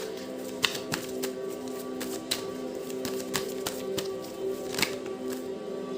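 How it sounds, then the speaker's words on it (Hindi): Tarot cards being shuffled by hand, a soft continuous riffling with scattered sharp taps and flicks, fairly quiet and close, with no talking. "दोबारा शफल करते हैं"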